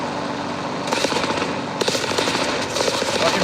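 Rapid machine-gun fire from a tail gunner in the War Thunder air-combat game comes in dense, loud bursts that start about a second in and continue through to the end.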